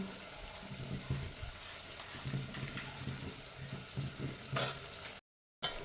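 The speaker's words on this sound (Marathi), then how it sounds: "आता हा मसाला चांगला तेल सुटेपर्यंत भाजून घ्यायचा आहे" A garlic, coconut, coriander and ginger masala paste roasts in oil, a soft, low sizzle with occasional stirring scrapes and bumps, quiet and close, briefly cutting out near the end.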